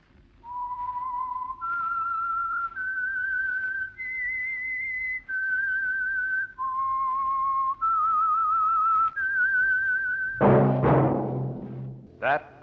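A clear, melodic whistled tune of sustained notes rises and falls in a slow phrase, then a burst of louder sound cuts in at the end.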